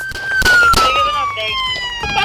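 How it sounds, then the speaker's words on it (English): Deputies fire their service weapons in a quick volley of several sharp, loud gunshots over a wailing police siren, followed by shouting. "both deputies discharged their service weapons."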